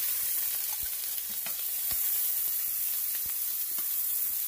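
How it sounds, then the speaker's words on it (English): Red peppers and onions saute in oil in a very hot skillet for a stir fry, giving a steady, close sizzle with scattered small pops and crackles throughout. "I am getting ready to throw in the red peppers and onions and let them go ahead and start sauteing"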